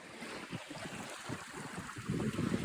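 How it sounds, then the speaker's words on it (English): A Buccaneer 18 sailboat on a broad reach through moderate waves: continuous water rushing and slapping against the hull with wind noise, swelling louder toward the end. "I'm doing a broad reach right now in waves that are just kind of nice."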